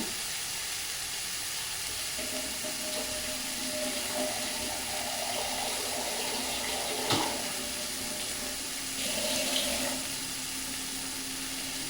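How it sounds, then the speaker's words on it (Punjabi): Water is poured into frying masala in a pan for soybean dal. A steady hiss and sizzle carries through, with a faint pouring gurgle and two brief surges of splashing, and no voices. "ਥੋੜਾ ਪਾਣੀ ਪਾ ਲਾਂਗੇ"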